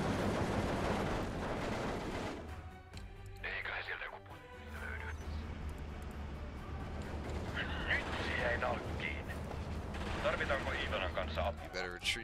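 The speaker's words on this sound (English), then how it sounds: "Maxims are just not good machine guns." Maxim machine guns on a Second World War Finnish front in the strategy game Steel Division II, heard as dense, continuous battlefield gunfire with deep rumbling blasts and a steady low drone, loud throughout, with a voice mixed in.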